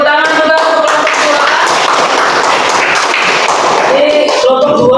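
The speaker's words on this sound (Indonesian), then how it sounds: "tepuk tangan juga untuk" Classroom applause for a student group in a ninth-grade lesson, loud close clapping and thuds mixed with overlapping voices and a few sung or sustained vocal tones.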